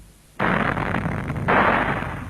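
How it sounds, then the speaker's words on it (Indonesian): A sudden loud blast erupts as ore-bearing rock is blasted in an underground mine at Freeport, Papua, followed by a sustained roaring rumble and a second surge of noise, like a distant explosion echoing. "Kemudian bagian-bagian yang mengandung biji diledakkan."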